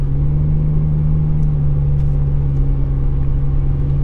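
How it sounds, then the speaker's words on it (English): A low, steady engine drone hums inside the cabin of a Chevrolet Colorado pickup with an MBRP aftermarket exhaust at about 75 mph, with a constant deep tone and road rumble and no voices. "So we're gonna get up to speed and find out if we hear any droning inside the cabin."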